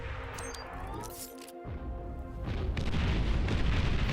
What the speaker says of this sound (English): Gonna use some artillery.